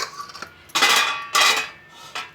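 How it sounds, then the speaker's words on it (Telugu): Boiled, peeled medium potatoes rubbed over a coconut grater, giving three loud, bursting rasping strokes with short pauses between them, close up with no talking. "కొబ్బరి తుడుముతో గ్రేట్ చేసుకోవాలి"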